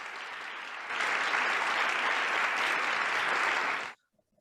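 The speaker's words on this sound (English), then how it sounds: "let's go ahead and give our first panelists a virtual round of applause" Applause for the first panel of a virtual redistricting briefing, a steady dense clapping that starts moderate, swells after about a second and holds loud before stopping abruptly.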